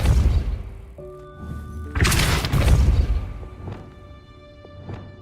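In Hogwarts Legacy, casting Depulso fires off a burst of thumps, booms and shattering crashes that peaks near the middle. Tonal game effects and faint ringing echoes carry on around it.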